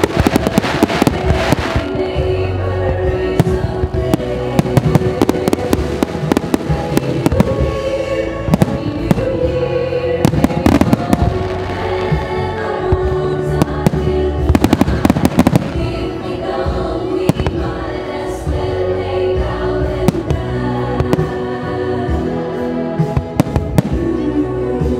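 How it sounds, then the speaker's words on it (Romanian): New Year fireworks burst over the city of Suceava in a dense, continuous barrage of loud bangs and crackles, with a faint crowd murmur underneath. "A urmat un foc de artificii care a putut fi admirat din mai toate colțurile orașului."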